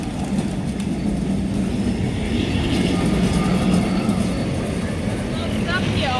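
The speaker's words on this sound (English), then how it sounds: "Tram coming." A tram passes on a windy street on the way to Sintra, Portugal, with a steady rumbling roll and faint wheel squeal, while people chat nearby.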